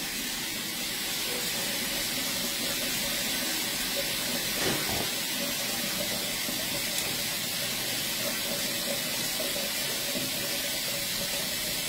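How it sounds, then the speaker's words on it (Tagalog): Tap water runs steadily into a sink at home, a continuous broad hiss that stays even and moderately loud from start to finish, with a faint brief knock partway through. "Iraran lang yung tubig."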